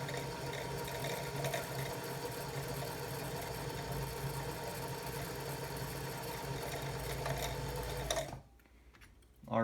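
A vintage Singer Stylist 513 sewing machine winds a bobbin with a smooth, even motor hum that runs steadily for about eight seconds, then cuts off abruptly into near quiet.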